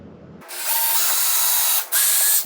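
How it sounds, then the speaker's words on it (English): Power drill boring a pilot hole into a hardwood floor with a small bit, a steady close whine that runs for about a second and a half, breaks off briefly, then resumes before stopping. "So, pilot hole."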